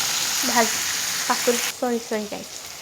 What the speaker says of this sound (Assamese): চব্জিকেইটা কেৰাহীত অকণমান ভাজি লওঁ